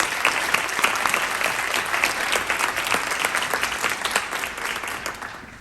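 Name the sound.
audience applauding panelists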